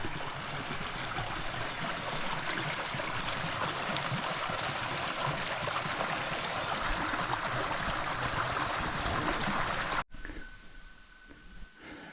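A shallow stream runs through a watery gorge with small waterfalls, a steady close rushing and trickling for about ten seconds before cutting abruptly to a much quieter, thinner flow.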